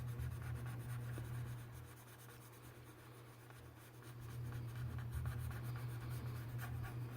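A colored pencil blends colors on planner paper in a dense soft scratchy rubbing that keeps going, quiet and close, with a low steady hum beneath and no talking.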